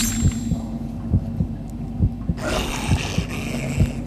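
Rhythmic heartbeat thumps in Deadly Creatures, a steady deep double pulse about once per second, loud and close over a low hum, with a brighter wash of ambient noise joining halfway through.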